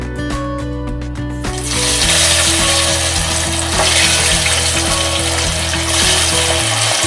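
Bitter gourd drops into hot oil and fries with a loud, even sizzle that swells and holds, over a low, steady hum.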